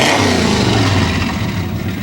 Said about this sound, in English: the exhaust on this little Fairlane here is awesome